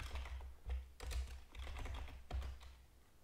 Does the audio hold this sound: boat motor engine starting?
no